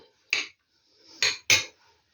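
Eggs and chopped onion mixed together in a bowl with a utensil, giving three distinct clinking, scraping strokes separated by short pauses, close and clear with no talking.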